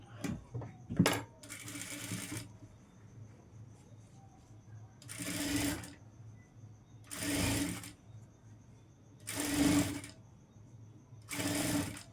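A sewing machine stitches a boat neck blouse in four or five loud bursts of rapid stitching, each a second or so long, separated by short pauses with quieter handling of cloth and a few clicks.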